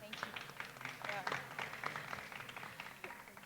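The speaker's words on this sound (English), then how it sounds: "do give her a round of applause" Audience applause at a youth entrepreneurship conference, a dense patter of many hands clapping in a hall, mixed with voices talking over it.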